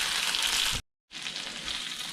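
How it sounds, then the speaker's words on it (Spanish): Chipotle chiles sizzling steadily in hot oil in a pan while being stirred, a bright continuous frying hiss broken by one brief moment of silence. "todo aquí junto para que se guise, y vamos a estar meneando para que no se nos quemen nuestros chiles"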